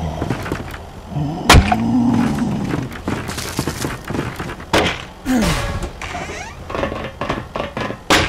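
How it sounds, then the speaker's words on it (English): A knock on a wall in the horror game NEDRA, heard as a sharp, loud thud early on. It sits amid a dark ambient bed with low rumbles and scattered thumps. "In response, I only received a knock on the wall."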